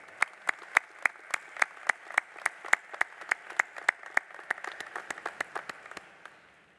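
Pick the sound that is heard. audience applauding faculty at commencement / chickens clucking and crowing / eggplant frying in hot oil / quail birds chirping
audience applauding faculty at commencement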